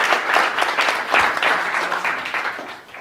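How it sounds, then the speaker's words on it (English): Conference audience in Rome applauds a speaker taking the stage, a dense, loud burst of many hands clapping that gradually tapers off. "Please, a big applause to him."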